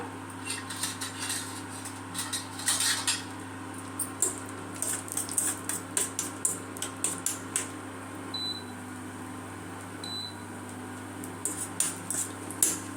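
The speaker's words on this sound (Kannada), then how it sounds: "ಈಗ ಅದಕ್ಕೇ ಸ್ವಲ್ಪ ಗೋಡಂಬಿ ಹಾಕಿ ಫ್ರೈ ಮಾಡ್ಕೊಳ್ಳೋಣ" Cashews frying in hot ghee in a pan while making makhana kheer, heard as a faint, steady hiss under a low hum, with scattered light clinks and taps of a spoon against the pan.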